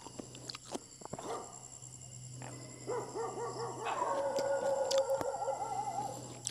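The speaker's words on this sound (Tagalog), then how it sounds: "Ang hirap kumain ng ganyan mga puro aso na tahol na tahol" Several dogs bark repeatedly in loose bursts, some yelps rising into howl-like calls near the end, over a steady low hum and background bustle.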